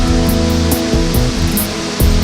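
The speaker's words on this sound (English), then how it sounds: "As you get closer and closer to each waterfall" A large natural waterfall in Costa Rica roars close by, a loud, steady rush of falling water with no voices over it.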